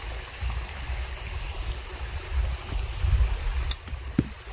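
Water flowing through a wide creek with only a small current in a broad channel, a soft steady outdoor wash of gurgling with low rumble, fairly faint and continuous with a couple of brief clicks near the end.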